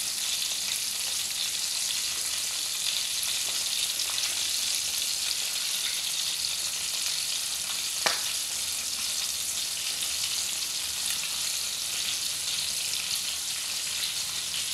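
Milkfish (bangus) frying in hot oil, a steady dense sizzle that stays even throughout, with one sharp pop about halfway through.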